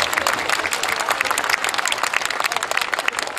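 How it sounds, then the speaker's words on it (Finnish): Dense, loud crowd applause at a demolition derby event in Lahti for a prize winner, many hands clapping rapidly and continuously with a lively, close texture. "Aplodit sulle, kiitos."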